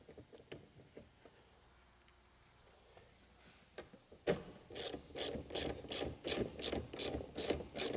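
A ratchet cranks down a nut on a C5 Corvette's plastic wiper cowl: quiet fumbling and a few clicks, then a steady run of sharp, evenly spaced ratcheting clicks up close, with no talking.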